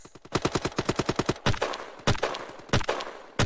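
Rapid gunshots in the game Shell Shockers: a fast run of evenly spaced shots, followed by slower, heavier single reports with short decays, loud and close with no talking.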